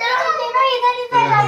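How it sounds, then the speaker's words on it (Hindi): Children shouting and chattering at home, several young voices overlapping loudly and continuously up close, with a brief dip before a higher-pitched burst near the end. "बच्चों का शोरगुल इस तरह का"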